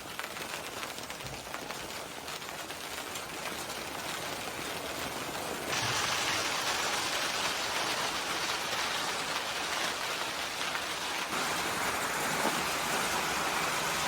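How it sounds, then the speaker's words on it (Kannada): Midday rain falling with large drops at a grandmother's village house, a steady broadband hiss that grows noticeably louder partway through and then eases slightly, continuous without talk. "ಮಳೆ ಬಂದು ಸಹ ಆಯಿತು"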